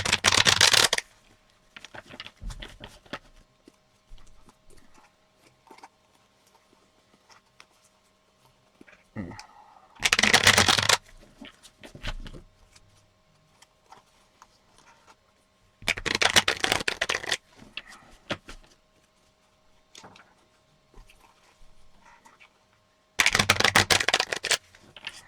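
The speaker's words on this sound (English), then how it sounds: "So, aside from having to shuffle the cards about 3 times a game" Playing cards being shuffled for an APBA Soccer tabletop game, four loud, close bursts of riffling spaced several seconds apart, with quiet handling noises and faint ticks in between.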